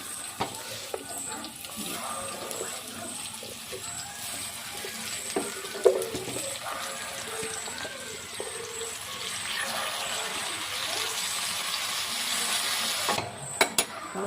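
Diced elephant yam sautéing with turmeric powder in a pan gives a soft continuous sizzle under intermittent stirring scrapes and light clinks, fairly quiet and steady with no speech.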